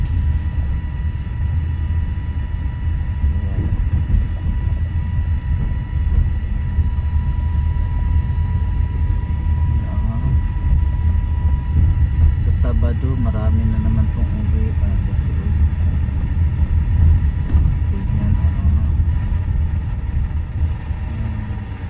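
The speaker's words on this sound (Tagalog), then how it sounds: "matinding traffic" Heavy evening traffic crawls along a one-lane road approaching a bridge in Lupi, Camarines Sur, with a continuous low rumble of idling and creeping engines beneath someone talking.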